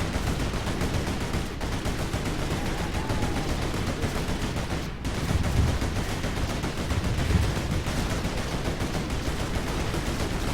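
A quad cannon fires continuously in the Rise of the Reds 1.86 strategy game, a dense, loud stream of rapid automatic shots layered over battle noise for the whole stretch.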